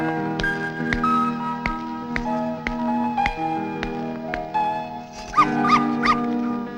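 A dog barks again and again at close range, sharp yaps coming roughly every half second, with a few higher whining yips near the end.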